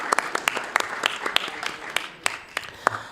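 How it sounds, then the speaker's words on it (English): A room of legislators and staff at a state Senate and Assembly subcommittee session gives a modest round of applause, fairly sparse claps with a few loud nearby hands, tapering off after a few seconds. "Let's go ahead and give ourselves and our staff a round of applause"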